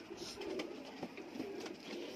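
A male Teddy pigeon coos in low, soft rolling phrases close by, repeating a few times over a noisy, hissy background.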